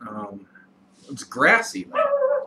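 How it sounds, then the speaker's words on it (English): A dog yips and whimpers nearby in a few short, high bursts, overlapping someone speaking indoors. "Please excuse the dog."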